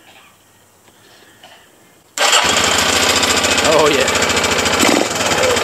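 A 2002 Arctic Cat 375 4x4 ATV engine with a new carburetor catches after a quiet pause and runs loud and steady, a fast rough chugging near the microphone, with a brief voice before it starts.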